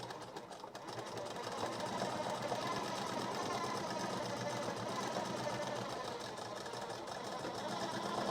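A normal domestic sewing machine stitches cord piping, giving a steady, close mechanical whir with fast rhythmic needle clatter that runs without a break.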